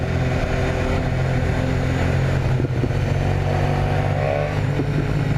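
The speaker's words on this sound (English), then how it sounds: "Listen to the pops. We're just cruising in first gear." A 2018 BMW S1000R motorcycle cruising in first gear sends out a steady, loud engine drone, with a few faint exhaust pops and crackles breaking through near the rider.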